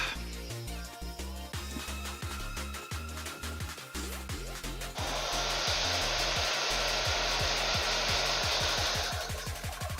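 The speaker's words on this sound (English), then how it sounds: "I'm going to quickly hit that with a hairdryer" A hair dryer blows with a steady, loud roar for several seconds, laid over rhythmic background music that continues after it stops.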